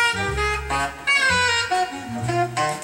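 A short recorded jazz lick over a 2-5-1 progression: a quick melodic run of several sustained notes over a low bass line.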